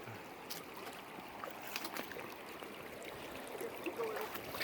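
A river rushes and gurgles steadily during a crossing on the Laurel Hill Northern Trail, with broadband splashing and flow noise that swells slightly toward the end.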